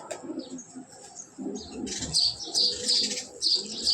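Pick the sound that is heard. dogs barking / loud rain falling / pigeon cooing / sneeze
pigeon cooing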